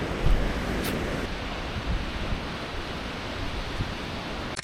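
A Yosemite waterfall in autumn, heard up close: a steady, dense roar of falling water that continues without pause, with no voices.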